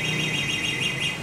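A three-wheel e-bike's anti-theft alarm sounds continuously, a loud warbling siren rising and falling in a steady repeating sweep over a low background hum, with no talking.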